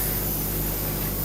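Airbrush spraying Mr. Tool Cleaner while painting tools are being cleaned, a steady continuous hiss of fine spray running close and unbroken throughout.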